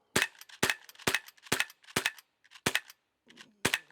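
A Sig P320 CO2 pellet pistol fires about nine sharp, evenly spaced cracking shots, loud and close, as the gas runs low and the action no longer fully cycles.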